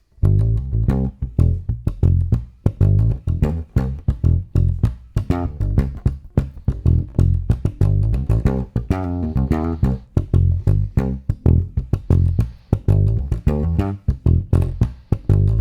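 Funky bass line full of percussive ghost notes, a steady stream of punchy low notes broken by short muted clicks in a tight, syncopated groove, loud and continuous with no talk.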